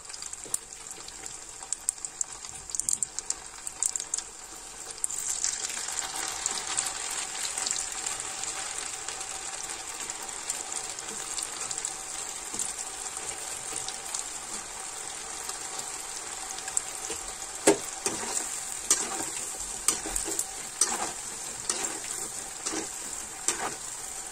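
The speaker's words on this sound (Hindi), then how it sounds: "अभी इसको डबल फ्राई करेंगे तो ऑयल बहुत ज्यादा गर्म होना चाहिए।" Potatoes sizzle in very hot oil during a second fry for crispy honey chilli potatoes, a loud, steady frying hiss with occasional stirring clinks and bubbling bursts, no voices.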